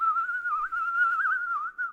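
A single eerie, wavering whistled tune from the hanged ghost of old professor Wyman in the horror game Remothered, heard alone, clear and close, holding one steady pitch with slight bends.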